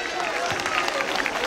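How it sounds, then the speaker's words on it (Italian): Audience applause of encouragement at a parish saints' festival event in Rionero, a brief, continuous wash of many hands clapping from a crowd, with a voice in the mix. "Applauso di incoraggiamento."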